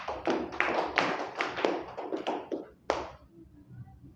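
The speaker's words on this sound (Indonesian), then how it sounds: "Kita berikan aplaus untuk kita semua" A small group applauds in a classroom at the close of a micro-teaching economics lesson on inflation, giving a few seconds of scattered, uneven clapping that fades out toward the end.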